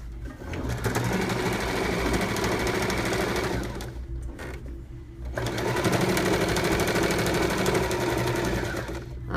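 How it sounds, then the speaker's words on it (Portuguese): A sewing machine topstitches around the edge of a small fabric hygiene kit pouch, running in loud, steady, rapid bursts with a brief pause midway before stitching resumes. "olha como é fácil passar a linha nessa máquina"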